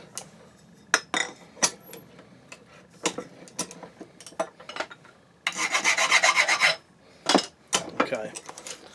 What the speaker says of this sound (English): Just going to file off a little bit, the little sort of shavings